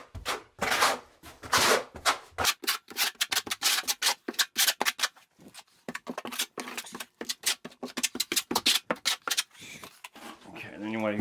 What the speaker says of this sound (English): using the flat side of the trowel, I would recommend just burn it into the substrate